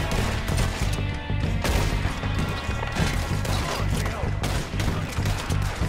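Gunfire in Red Dead Redemption 2 crackles as a dense, continuous volley of shots and crashing impacts with a steady low rumble beneath, loud and busy throughout with no clear pauses.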